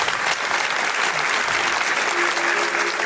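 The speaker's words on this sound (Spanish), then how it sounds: "Pido un aplauso para ellos." An audience breaks into steady, dense applause, a loud wash of clapping that carries on evenly for a few seconds with no voices over it.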